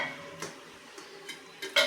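Metal dhokla tin set down into a pressure cooker holding a plate and hot water, giving a few light clinks and scrapes of metal on metal, the sharpest knock at the end, close and fairly quiet with no talk.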